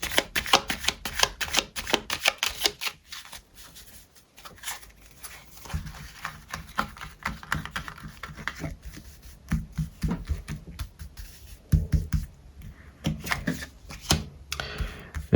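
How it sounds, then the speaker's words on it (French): Playing cards shuffled and drawn for a tarot-style reading, a close, steady patter of rapid riffles and flicks that pauses briefly and then resumes, with no talking. "Et là, on va faire un tirage en 5 cartes."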